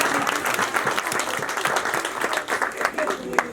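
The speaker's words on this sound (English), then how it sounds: "Can you clap for God?" Audience clapping during a talk on the value of education, lively and continuous with sharp individual claps standing out, and voices mixed into the crowd.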